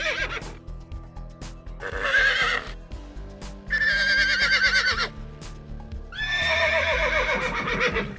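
Horses in the video game GTA 5 whinnying in three long, shrill neighs, with faint clip-clop and rumble underneath, close and fairly loud with no talking.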